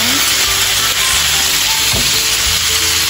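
Pieces of chicken hit a hot pan with ginger and garlic for chicken teriyaki, a loud, continuous sizzle with scraping stirs from a utensil against the pan, close and without talk.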